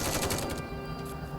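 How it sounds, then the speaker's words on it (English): Rapid bursts of gunfire from the video game NIKKE hammer a monster's core, a dense loud volley that cuts off partway and leaves a ringing tail. "The counters pummel the Rapture's core with another hail of gunfire."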